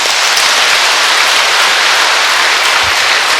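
A church seminar audience applauds together in a dense, loud, steady wash of clapping that fills the whole moment without a break.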